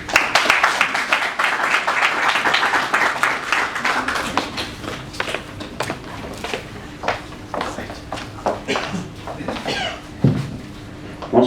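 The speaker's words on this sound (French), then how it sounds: "Sous vos applaudissements." An audience applauds at a poetry prize ceremony in Senegal, the Prix Ibrahima Sall. Dense clapping fills the first few seconds, then thins into scattered, uneven claps that continue to the end.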